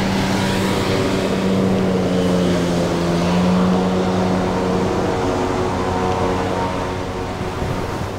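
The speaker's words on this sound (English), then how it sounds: "Sounds like we got a boat coming." A motorboat approaches out on open water in a remote spot, its engine a steady, fairly loud droning hum with a rising and falling tonal whine, heard on its own for several seconds.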